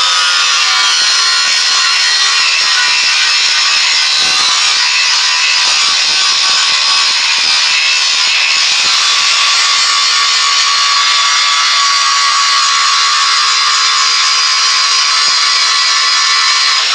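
An angle grinder cuts into half-inch-thick steel plate, beveling it for stronger welds: a loud, continuous abrasive whine and hiss holding steady for the whole stretch, with no voices.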